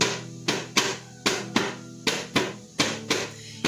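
A Mapuche cultrún, a shallow ceremonial hand drum, is struck in a steady repeated beat, about nine loud close hits with short ringing decays, alone without talk.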